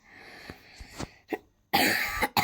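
A person coughs several times, a few soft short coughs followed by one louder, harsher burst close to the listener.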